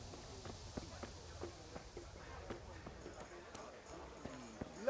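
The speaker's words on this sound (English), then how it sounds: "Oh my God, it's a horse." Steady clip-clop of horse hooves at a walking pace in the video game Kingdom Come: Deliverance, soft and rhythmic, with a faint background bed and a brief rising tone at the end.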